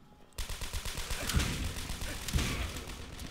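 Machine-gun fire rattles in Call of Duty: World at War, a dense burst of rapid game shots with a couple of heavier impacts, loud and continuous for about three seconds.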